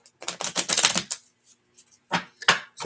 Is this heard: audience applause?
no